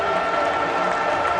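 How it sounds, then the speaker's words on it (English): Cricket stadium crowd cheering after a six lofted over long on in a Pakistan versus Australia World Cup match: a dense, continuous roar of applause and voices, loud and sustained through the short moment. "Well, the crowd is suddenly up once more. They've erupted."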